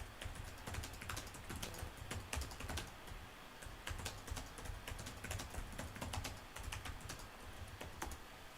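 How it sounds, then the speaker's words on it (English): Someone types rapidly on a computer keyboard, a quick, steady stream of close, crisp key clicks with no talking. "So I'll just type in the chat one more time."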